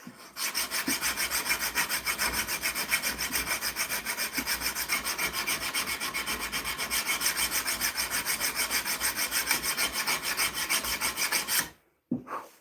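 Hand file rasping across a knife blade in fast, even strokes, a continuous close scraping rhythm lasting most of the clip before stopping abruptly near the end, with no talking.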